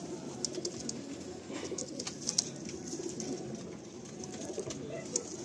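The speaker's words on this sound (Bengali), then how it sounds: "বাহ খুব সুন্দর কালদম পায়রা।" Madrasi pigeons cooing softly and continuously in a loft, a low murmuring coo repeated under faint background rustle and occasional higher chirps.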